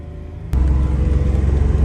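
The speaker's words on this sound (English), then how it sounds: "I'm only driving it in first right now because I'm trying to record and don't have time to shift" A JDM project car driving in first gear: quiet at first, then a sudden loud, close engine rumble kicks in and holds with a throbbing drone to the end.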